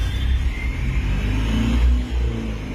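A small goods vehicle, a chhota hathi, revs its engine close by on a roadside during a traffic police stop, a loud continuous low rumble that swells and dips, with no speech.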